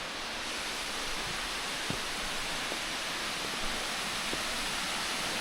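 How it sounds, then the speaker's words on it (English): Rainbow Falls, the largest free-falling waterfall in South Carolina, roars in a steady, dense broadband wash that holds constant throughout, with no voices over it. "free-falling waterfall in all of South Carolina. Rainbow Falls."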